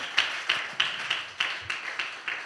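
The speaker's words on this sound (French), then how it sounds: "Clap for the Lord" A church congregation claps in a steady, even rhythm for Jesus, about three claps per second, moderately faint and set against a quiet hall.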